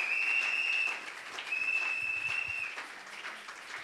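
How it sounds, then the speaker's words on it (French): A church congregation at a Sunday worship service applauds and acclaims Jesus, sustained loud clapping filling the room, with a shrill whistle-like tone running through the first half. "Est-ce que tu peux acclamer Jésus?"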